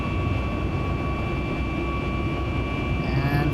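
Boeing 737 MAX jet engines roar at a steady, loud level as the airliner climbs after takeoff, a continuous broadband drone with faint tonal hums and no talk.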